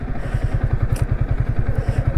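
Motorcycle ridden off-road along a slippery, waterlogged track, its engine thudding in a steady rapid pulse close by, loud and continuous with faint clattering over it.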